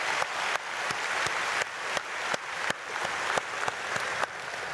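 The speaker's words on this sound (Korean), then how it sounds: "박수하겠습니다." A congregation at a Saturday early-morning prayer service at Myungsung Church in Korea applauds, a dense and even wash of many hands clapping steadily and fairly close.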